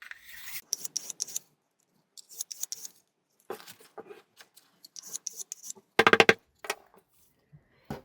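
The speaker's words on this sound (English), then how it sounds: "You would just use this just to keep your chalk sharpened all of the time." Tailor's chalk is rasped against a sharpener in short bursts of dry scraping, separated by silences, with one quick cluster of harder strokes near the end.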